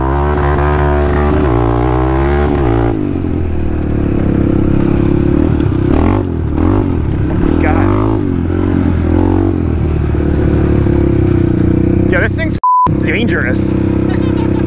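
A cheap midsize quad ATV with worn-out suspension and a loose front left tire runs steadily, its engine droning loud and close throughout with varying revs, and a brief beep near the end.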